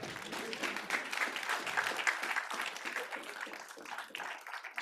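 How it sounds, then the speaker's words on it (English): A lecture audience in a university psychology department claps after a crystal terrapin gift is presented; moderately quiet, scattered-to-steady handclaps from a modest crowd in a room. "Yes, you can clap."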